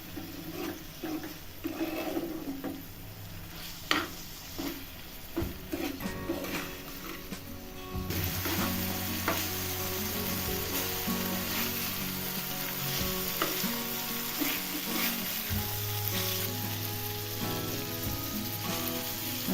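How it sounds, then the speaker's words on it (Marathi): Dry mackerel (bangda) frying in oil in a pan, a continuous crackling sizzle with occasional stirring scrapes and clinks, close and steady throughout, with a low kitchen hum underneath. "आता बांगडा तेलात भाजलेला आहे."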